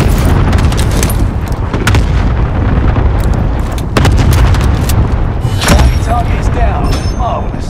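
Call of Duty: Modern Warfare gunfire and explosions crack and boom repeatedly, sharp shots and heavy blasts scattered through a loud battle din, with players talking over the action.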